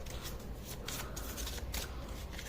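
Close, soft riffling of tarot cards as they are shuffled to pull a clarifier card, a continuous papery flutter with short brighter bursts, with no talk.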